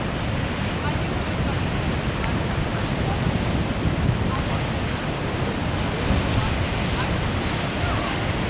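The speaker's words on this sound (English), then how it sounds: "look at that, the crashing of the waves, the foam" Waves crash steadily onto Maui's black volcanic lava coast, a continuous roar of surf and churning foam, with wind buffeting the microphone throughout.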